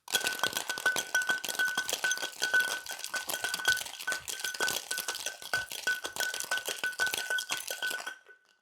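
Ice rattles hard and fast inside a metal cocktail shaker for about eight seconds of rapid, continuous clinking, then stops abruptly.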